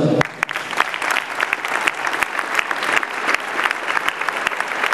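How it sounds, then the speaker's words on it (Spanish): Audience applause at a club gathering with local authorities present: a moderate crowd claps steadily, with sharp individual claps popping out near the microphone. "un fuerte aplauso"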